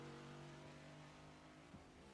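A race car in a racing video game pulls out of the pit lane, its steady mid-pitched engine drone holding level throughout with a slight rise near the end, heard alone at moderate volume.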